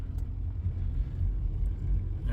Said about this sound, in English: Put it in drive and take off, you guys.